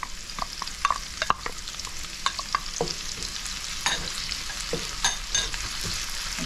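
Chopped onion, ginger and garlic sauté in a pan, stirred with repeated scraping clicks and taps over a continuous close sizzle.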